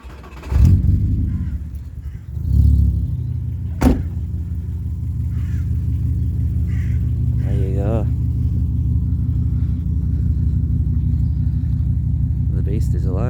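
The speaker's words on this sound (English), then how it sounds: "Right, let's start her up." A Volkswagen Beetle with a 2.3 V5 engine cranks, catches after a couple of attempts, and settles into a steady, rumbling idle, while someone talks briefly over the running engine.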